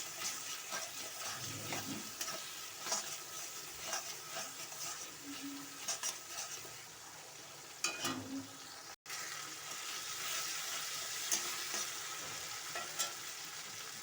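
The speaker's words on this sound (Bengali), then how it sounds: "সর্ষে পোস্ত বাটাটা দিয়ে দেবো।" Mustard-poppy seed paste is stirred into a katla fish malai curry in a pan, a continuous sizzle and bubbling with scraping stirs throughout and one brief cut-out partway.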